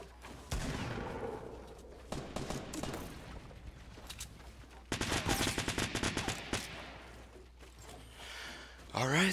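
Sniper gunfire in a Fortnite match, heard as scattered sharp shots and a rapid cluster of cracks partway through, with a player talking over the action.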